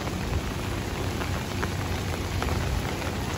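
Steady rain falls around the Merlion in Singapore, a continuous even hiss of drops on surfaces, moderately loud and unbroken, with no voices.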